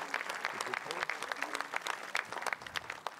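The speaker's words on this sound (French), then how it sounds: "Et tous ces applaudissements, on peut réapplaudir" A crowd at an opening ceremony applauds steadily, a dense, continuous patter of many hands clapping at close range, with voices faintly mixed in.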